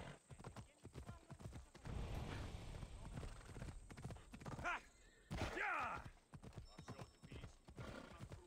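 Rapid, steady hoofbeats of a galloping horse in the video game Assassin's Creed Odyssey thud along, with a short whinny partway through.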